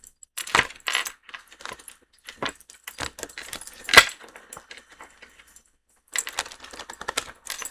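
Tarot cards being cut and shuffled into three piles by hand, giving a few sharp papery slaps and light clacks scattered across a quiet background, with short pauses between bursts.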